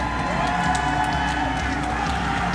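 A kickboxing arena crowd roars steadily for a favored amateur fighter, a dense continuous wash of cheering and shouts with scattered whoops.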